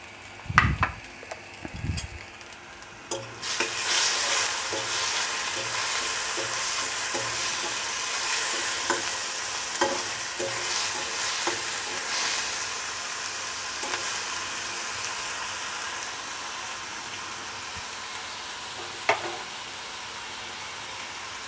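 Chopped tomato and grated ginger hit hot oil in a pan, giving a sudden loud sizzle that settles into a steady close frying hiss with occasional stirring scrapes.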